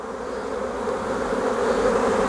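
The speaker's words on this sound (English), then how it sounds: "Shake the bees off." Honeybees buzzing as they are shaken off a hive frame during an inspection, a steady dense close hum of many insects that swells slightly, with no voices.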